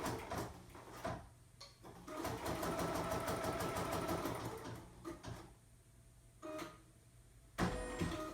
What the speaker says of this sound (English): we are going to stitch color number 1 directly onto the stabilizer in the hoop.